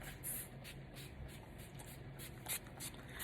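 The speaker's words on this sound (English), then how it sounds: "Let's spray." Indoors in a home, an aerosol can sprays in several short hissing bursts with brief pauses, the loudest puffs near the start and toward the end, fairly close.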